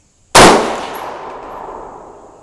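A single loud 6.5 Grendel rifle shot firing a 123 grain bullet cracks sharply at close range, followed by a ringing decay that fades over about two seconds.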